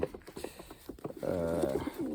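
Young racing pigeons coo in a low, rolling burr, one call swelling clearly near the end over a murmur of softer bird sounds close by.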